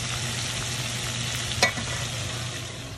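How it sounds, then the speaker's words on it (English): Chicken wings sizzle and crackle in a hot pan while steam frying, a steady frying hiss with one brief sharp clatter partway through. "So it's steam frying."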